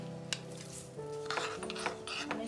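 Sugar melts in ghee over a low flame to become caramel for rice kheer, a soft sizzle with scraping stirs against the pan, close and fairly quiet.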